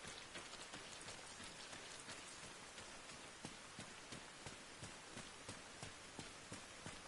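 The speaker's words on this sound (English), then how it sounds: "that rain's really coming down too, isn't it?" Rain pours down steadily in the video game Arma Reforger, a dense hiss of drops with scattered sharper taps on surfaces, continuous and fairly quiet, with no talk.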